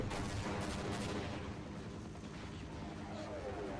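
Gunfire and a grenade blast in the Half-Life game, a dense, continuous clatter of shots and rumbling booms that stays loud for nearly four seconds with no clear break.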